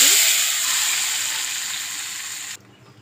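Cooked moong dal poured into a hot tempering pan for pesara kattu sizzles loudly at once, a bright steady hiss that slowly fades, then cuts off abruptly near the end, with no voices.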